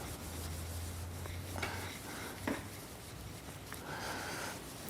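Coating being rubbed by hand onto new wheels and tires for a Ford Raptor, a soft continuous rubbing and wiping with a few brief scuffs, close and fairly quiet with no talking.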